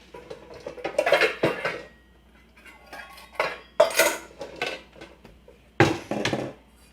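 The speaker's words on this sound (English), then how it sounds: "I'm gonna get a bowl." Metal cutlery and ceramic dishes clink and clatter nearby as a bowl is pulled from a pile of kitchen dishes, in several sharp bursts over about seven seconds.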